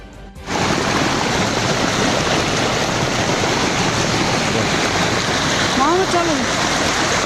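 Flash flood water from a cloudburst in Uttarkashi district, Uttarakhand, rushing loudly and continuously in a steady broadband roar close by, with a brief whistle-like tone near the end.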